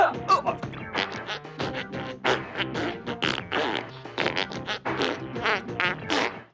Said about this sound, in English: Little too much emphasis on the fart noises.